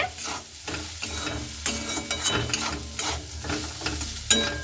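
Cauliflower being stirred with salt and turmeric in a frying pan, a steady close sizzle broken by repeated scraping strokes of a spoon against the pan, no voices.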